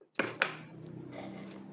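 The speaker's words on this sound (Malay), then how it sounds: "1 ketul gula Melaka ni, potong-potong sahabat." A knife chops a block of gula Melaka palm sugar in two quick, sharp cuts close by, followed by a soft rustling scrape.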